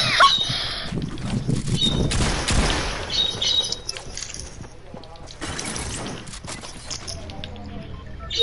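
Birds chirp inside a video game: short, high tweets come in scattered bursts over busy in-game noise and clattering, gunfire-like bursts.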